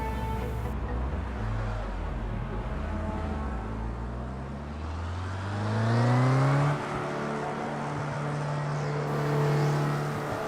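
A Formula Rookie open-wheel race car in the Project CARS 2 racing game at the Knockhill circuit, its engine revving and shifting through gears with rising and falling whine, steady and close throughout.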